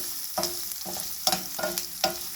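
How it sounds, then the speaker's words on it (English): Garlic sautés in a pan for gongura pickle, a steady close sizzle broken by repeated scraping stirs at a loose rhythm, with no talking. "Saute it a little till the garlic is slightly cooked."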